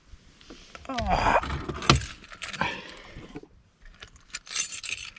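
Car keys jangle and clink in a few bursts, with faint handling noises and brief quiet gaps between.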